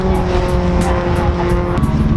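A Subaru car engine runs while driving, giving a loud, continuous droning hum with steady tonal harmonics and no pauses.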